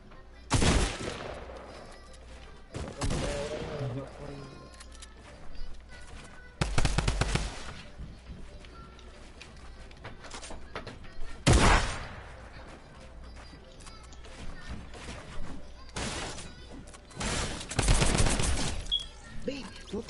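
Bursts of automatic gunfire and single shots ring out in a shooting video game, loud and repeated in clusters over about twenty seconds, with faint game noise between volleys.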